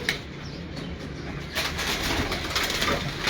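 Pigeons coo in soft repeated calls against a steady background of rooftop noise, with a brief flutter of movement midway; no one speaks.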